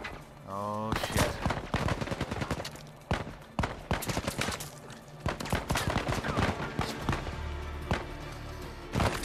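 Gunfire from the video game Uncharted 4: A Thief's End, with loud, rapid bursts and single shots that crackle close and repeatedly amid game action.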